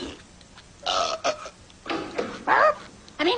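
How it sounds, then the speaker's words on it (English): Cartoon burps from The Simpsons, a 1987 burping contest: several loud, drawn-out belches in separate bursts with short gaps between them, close and alone. "Watch this, the burp champion of the world."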